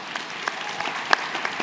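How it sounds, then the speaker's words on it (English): An audience at a music industry panel gives the panelists brief applause, a fairly sparse scatter of claps with a few sharper, closer hand strikes standing out. "give a round of applause to our panelists here"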